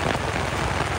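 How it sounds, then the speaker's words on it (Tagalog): Heavy rain pours down during a flood on Araneta Avenue, a dense, loud, steady roar of drops striking surfaces close by. "Natsyempohan po natin ngayon habang bumubuhos ang ulan."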